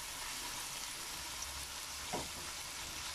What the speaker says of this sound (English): And the sound, the sizzling sound.